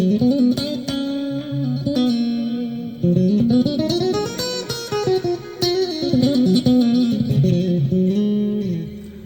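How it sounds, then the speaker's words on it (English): Electric guitar notes from a Stratocaster ringing out with echoing delay repeats and a wash of reverb, melodic phrases sustained and overlapping, loud and alone. "So you see this got a simple delay and a simple reverb."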